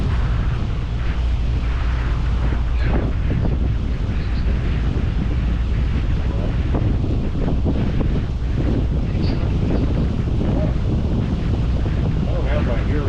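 Steady, rumbling wind buffets the microphone throughout on the Rio Dulce, with a continuous low roar and faint background sounds underneath.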